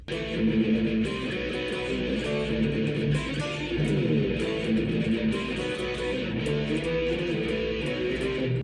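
A clean electric guitar riff from a 1987 song, played alone, steady and continuous, with sustained notes repeating in a moderate rhythm at an even loudness.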